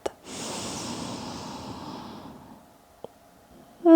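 One long, slow exhale flows out during a yoga stretch, soft and close, tapering off into quiet, then a brief click before a voice starts at the end.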